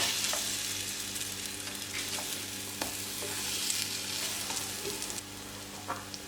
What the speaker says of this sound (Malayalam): അപ്പോൾ 2 സൈഡ് നമുക്കിതൊന്ന് മൊരിച്ചെടുക്കാം.